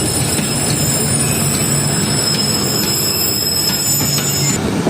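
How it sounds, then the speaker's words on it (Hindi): The 12 Down Hazara Express hauled by a U40 locomotive rolls past, a loud steady rumble of wagons with high metallic wheel squeal and faint rhythmic clacks throughout. "तो ये 12 डाउन हज़ारा एक्सप्रेस U40 के साथ"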